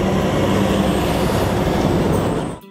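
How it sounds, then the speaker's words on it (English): Heavy trucks roll steadily past at close range through a neighborhood street, a loud continuous rumble and road roar with rattling bodywork that holds for several seconds, then cuts off abruptly at the end. "Would you rather hear trucks like these rolling through your neighborhood?"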